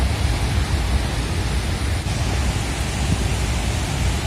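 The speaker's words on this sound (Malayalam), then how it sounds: "ഇപ്പൊ നല്ല വെള്ളച്ചാട്ടമുണ്ട്." Steady, dense roar of Athirappilly waterfall in heavy rain, loud and unbroken throughout, close by with no voices.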